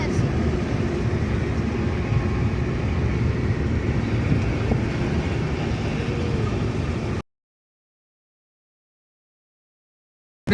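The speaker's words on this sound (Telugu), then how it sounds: "ట్రైన్ పోతుంది" A train rumbles steadily past for several seconds, a loud, broad roar of wheels and wagons heard from nearby, then cuts off abruptly to silence.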